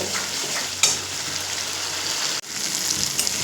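Spice masala with Kashmiri chilli powder sautés in a pan for an egg and pointed gourd curry, giving a steady close sizzle broken by a couple of sharp stirring scrapes, with no talking.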